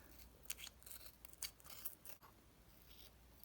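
Scissors cutting around tape on a glass baby food jar, a few faint crisp snips close by in a quiet room, with no voices.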